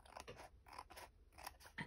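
Scissors snipping off a bit of paper overhanging an envelope journal, a few short close crisp cuts in quick succession, quiet and alone.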